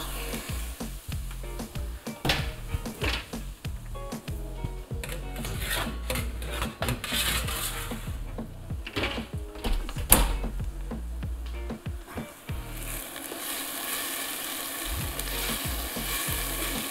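Chopped onion fries in hot oil in a pan, a steady crackling sizzle running throughout with scattered louder pops and spatters and a brief dip near the end.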